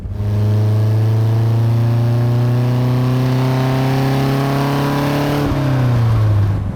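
Loud engine of a 1972 Lotus Europa Special revving hard, pitch climbing steadily under sustained throttle, then dropping sharply as it lets off near the end.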